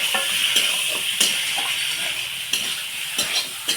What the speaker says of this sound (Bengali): একটু নাড়াচাড়া করে ভেজে রাখা আলুগুলো দিয়ে দিব।